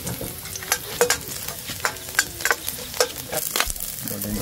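Garlic, onion and chili sizzle steadily in a hot pan, with irregular scraping stirs and clinks of a utensil over the continuous frying hiss.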